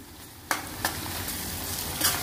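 Ginger garlic paste frying in a pan for Andhra-style egg curry, a steady close sizzle with a few quick stirring scrapes, no voices.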